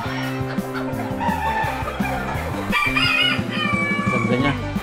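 Cochin hens cluck on a chicken breed farm in the Philippines, with other fowl around them. Close, busy, overlapping clucking runs throughout, with a crow-like call in the background.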